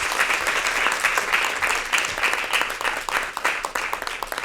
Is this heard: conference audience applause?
yes